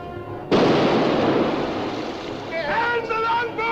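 A ship's cannon fires from a sailing vessel, a sudden heavy boom that rolls into a long, dense rumble and wash, with a voice shouting over the tail end.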